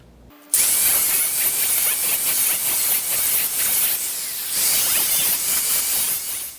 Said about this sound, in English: Best tool for a chamfer, a grinder.